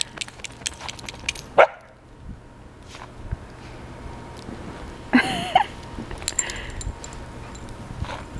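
A few sharp, high puppy barks and yips pop out at scattered moments over a quiet, rustling room background.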